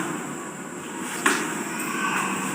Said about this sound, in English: traffic is heard roaring out the window